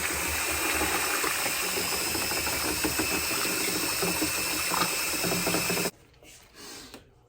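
A drill mixer churning ceramic glaze in a bucket, a loud continuous whirring and sloshing that cuts off abruptly near the end, followed by faint handling noise.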